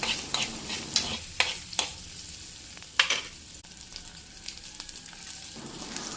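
Small onions, left whole, fry in coconut oil for a prawn masala, giving a steady close sizzle broken by sharp scraping stir strokes in the first seconds, then settling into continuous frying hiss.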